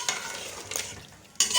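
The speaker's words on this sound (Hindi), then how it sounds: "अब इसको अच्छी तरह मिक्स कर लेंगे" A spoon scrapes and stirs crushed red chilli, salt and spices through chicken biryani in a pot, with soft sizzling underneath and a sharper scrape near the end.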